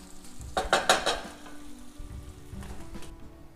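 Beef hamburger sizzling on a hot griddle, a steady close frying hiss with a few bright scraping and clattering spatula strokes near the start.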